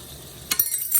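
A metal spoon scooping out eggplant flesh, producing two quick close clinks against the dish in a short, quiet moment with no talk.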